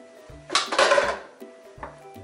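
Boiled red beans (lobia) tipped into a bowl, with a short soft rush and rattle of beans landing, set among light clinks and knocks of kitchenware; close and clear, no talking.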